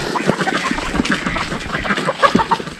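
A flock of backyard chickens clucking and calling nearby, overlapping short cries in a busy continuous chorus with no talking.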